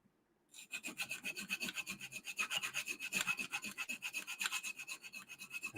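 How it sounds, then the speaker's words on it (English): Rhythmic rasping strokes of sanding a lightsaber build part to remove marker, steady back-and-forth scrubbing repeated quickly for several seconds, close and fairly loud, no voices. "That's why I keep sanding this."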